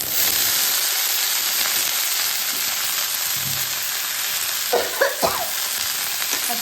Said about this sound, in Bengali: পেঁয়াজ আর একটু রসুন, সর্ষে আর শুকনো লঙ্কা দিয়ে ফোড়ন দিয়ে এটাকে বসিয়ে দিলাম